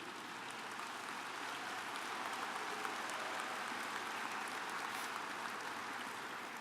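A large audience at the 2012 Berkshire Hathaway annual meeting applauds for Charlie Munger, a dense, even wash of clapping that holds steady and fairly distant throughout.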